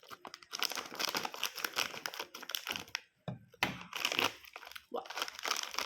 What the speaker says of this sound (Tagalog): Buksan naman natin tong si Yum Shot na mix.